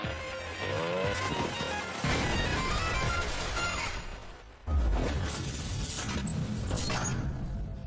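Car drifting with tire squeal as a stunt, a loud continuous engine roar and screeching tires with a brief dip and sudden renewed surge midway, broadband and close.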